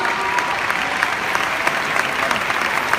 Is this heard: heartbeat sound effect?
no